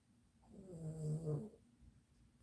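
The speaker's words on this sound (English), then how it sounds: "is sound asleep snoring" A pet named Button snores in deep sleep, a single drawn-out, throaty breath swelling up and fading away. The sound is close and soft, with no talking over it.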